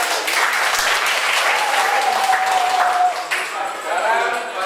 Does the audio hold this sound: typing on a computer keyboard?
no